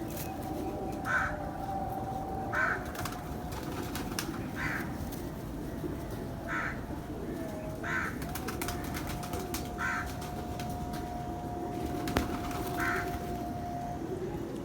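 Pigeons coo in soft repeated calls at intervals over a constant low background murmur, moderately faint and not too close.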